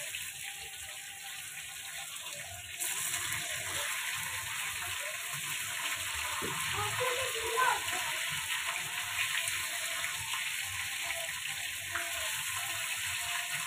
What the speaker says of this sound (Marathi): हे बघा मस्त फ्राय मच्छी फ्राय करायला लागले